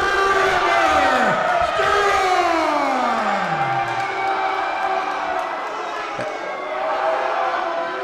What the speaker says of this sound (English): The crowd just giving it to Trevor Straud